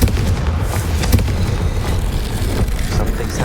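A Confringo fire spell explodes in Hogwarts Legacy, giving a dense, loud, continuous rumble of booms and blasts, with combat noise throughout.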